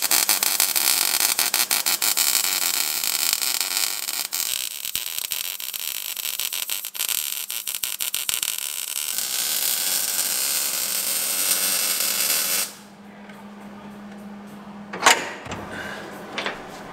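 Welding on the four-link rear suspension of a 1938 Ford Cabriolet produces a long run of crackling, buzzing arc noise that stops abruptly, followed by quieter shop sounds and a couple of knocks.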